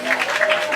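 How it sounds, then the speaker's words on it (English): A dinner audience breaks into a brief burst of clapping, dense and fairly loud, with a faint steady tone running beneath it. "a round of applause for the rum chef."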